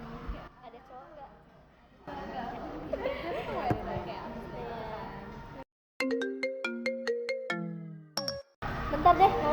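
A mobile phone ringtone plays a repeating, melodic run of bright tones for a few seconds after chatter among a group of friends. It ends abruptly, and talking resumes.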